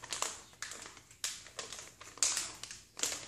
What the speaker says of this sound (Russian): Мы должны этот пакет открыть